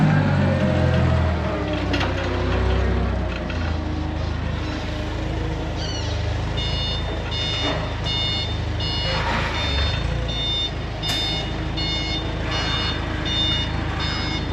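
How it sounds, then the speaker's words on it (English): A forklift sounds steady, repeating reversing beeps beside a dozer with track undercarriage problems, the beeps carrying through the second half over a low engine rumble, with no talking. "It's an awful nice forklift you got there, Bubby."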